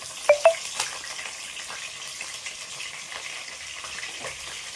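Slit green chillies and washed curry leaves fry in hot oil with a soft, continuous sizzle after a couple of sharp clinks at the start, fairly quiet and close, with no talking.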